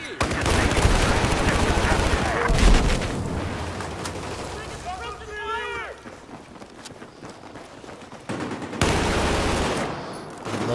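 Rapid hip-fired gunfire in the shooter Battlefield, dense bursts of shots and explosive noise up close, thinning out midway before heavy firing returns, with voices talking over the action.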